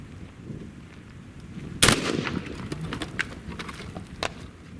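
A ZEUS .72 caliber air rifle fires one sharp, loud report midway through, followed by a decaying crackle and scattered clicks against outdoor background noise.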